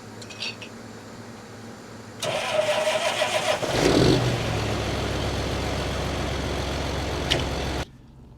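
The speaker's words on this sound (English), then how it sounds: "We'll let the 8R warm up." A John Deere 8R tractor engine cranking and catching after a short quiet lead-in, then settling into a steady diesel idle while warming up, fairly close, before the sound cuts off abruptly.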